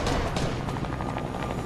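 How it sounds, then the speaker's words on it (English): Helicopter in a multiplayer video game, a steady continuous rotor roar filling the whole moment at close range with no talk over it. "There's another helicopter."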